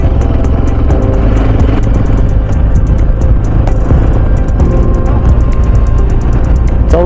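Hero XPulse 210 motorcycle cruising in fifth gear on an open road, a steady loud engine drone with heavy wind rumble throughout and no talk.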